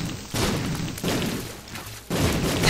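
Three heavy, muffled booms from explosions in The Binding of Isaac: Wrath of the Lamb, each a sudden low thud that lingers briefly before the next, fairly loud and close.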